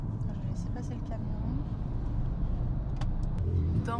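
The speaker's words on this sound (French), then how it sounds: "Je vais laisser passer le camion." A truck rolls past on a road amid steady traffic rumble, a loud continuous low engine drone swelling slightly toward the end, with a few faint higher clatters near the close.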